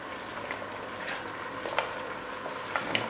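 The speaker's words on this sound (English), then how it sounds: "So I'm just gonna start adding them slowly to the cooking pan." A pile of vegetables goes into a hot cooking pan for a hunter's rabbit stew, giving a steady close sizzle and frying hiss broken by a few light clicks and clatters.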